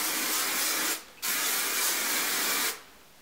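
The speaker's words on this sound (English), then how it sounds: "So I'm just going to spray it now." Hairspray hisses from an aerosol can onto short hair in two bursts, a long spray, a brief pause, then another lasting about a second and a half, close and loud.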